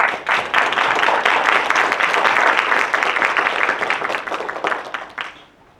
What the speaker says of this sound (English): Please give a round of applause again for our panelists.